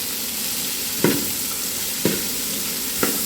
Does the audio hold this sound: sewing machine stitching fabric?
no